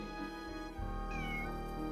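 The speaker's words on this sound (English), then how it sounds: "My cat." A house cat meows in a series of drawn-out, tonal cries over a steady low background hum, close and fairly loud throughout.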